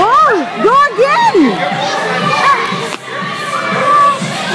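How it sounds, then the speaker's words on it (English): Children scream and shriek in loud, repeated overlapping bursts at a birthday party, mixed with crowd chatter and music. "Oh, it's so many screams."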